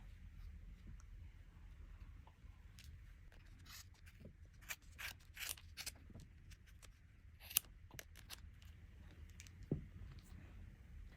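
Scissors snipping yarn for a crochet chunky hat pom-pom, a series of quiet, irregular sharp cuts over faint room noise.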